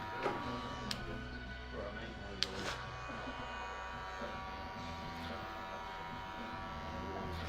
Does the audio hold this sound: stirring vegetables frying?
no